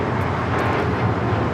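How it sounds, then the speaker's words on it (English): A United Airlines Boeing 737 MAX 9 takes off bound for Baltimore, giving a broad steady jet roar heard from outside at an airport, loud and continuous with some wind on the microphone. "This is United Airlines 2039 taking off to Baltimore on the MAX 9"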